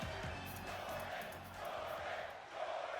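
A wrestling crowd at an IPW show roars and cheers steadily for three seconds, a dense continuous wall of many voices with a brief swell near the end, no single voice standing out.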